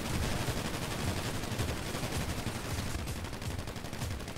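Rapid gunfire in a roleplay video game, dense overlapping bursts like a machine gun and scattered shots, loud and continuous for the whole stretch with no voices.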